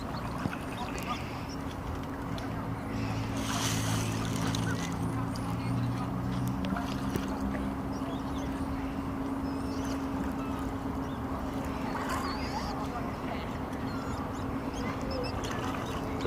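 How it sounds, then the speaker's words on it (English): A swan and a moorhen fight on the water, honking and squabbling amid splashing, with a steady low rumble and voices underneath, the commotion flaring up and settling. "Oh, a fight between a swan and a moorhen."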